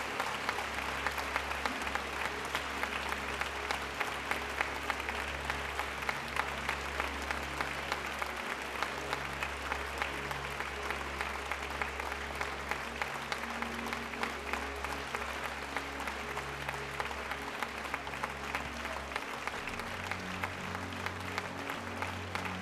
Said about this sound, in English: Et je crois qu'on peut les applaudir encore une fois